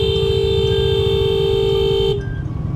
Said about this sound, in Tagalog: Huminto nga kami dito saglit dahil nag-lock ang aking busina.